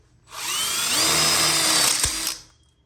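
Power drill driving screws into a steel tubing frame for an outdoor kitchen module, one steady whirring burst of about two seconds, close and loud, ending with a sharp clunk as the screw seats.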